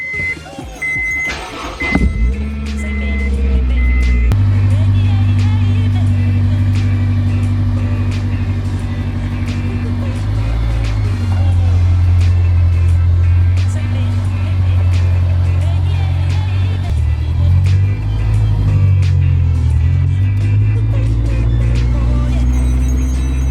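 A Honda S2000 on newly installed Fortune Auto coilovers starts up and drives, its engine a steady low droning hum with a brief sharp burst at the start and mild pitch shifts as it moves.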